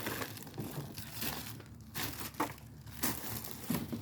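Plastic waste is crumpled and crinkled as it is pushed into a recycling bin, with several loud crackling bursts across a few seconds and no talking.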